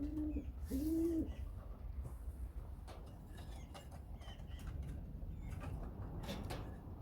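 Young racing pigeons coo inside a loft, with a couple of soft, throaty coos near the start and then faint rustling and shuffling.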